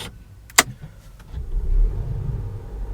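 A Volvo XC60 starts up after a sharp click, its engine catching into a low, steady idle rumble heard from inside the cabin.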